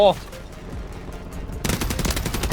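Gunfire in Call of Duty Warzone: after a quiet stretch, rapid automatic shots break out, loud, close and sustained.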